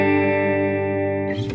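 An electric guitar chord rings out in a relatively clean tone through a Line 6 POD Go, sustained with rich overtones before a second strum cuts in near the end.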